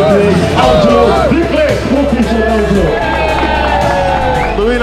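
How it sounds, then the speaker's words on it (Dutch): Crowd at a Turbo Cross race podium ceremony cheering and whooping loudly, with a presenter's voice over a public address system and a low steady hum underneath. "Dames en heren, van jullie applaus."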